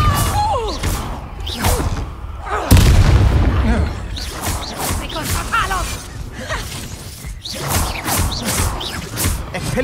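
A Confringo fire-blast spell explodes in Hogwarts Legacy, a deep booming thump with a whooshing burst amid continuous combat effects, and someone talks over the action.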